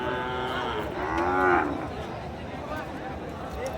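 At a cattle market, a Sahiwal calf lets out one long, nasal moo nearby, rising and then fading over a steady murmur of crowd noise and a bit of talking.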